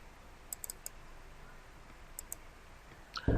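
A few light computer mouse clicks, small and sharp, spaced across a quiet stretch, with a louder thump near the end.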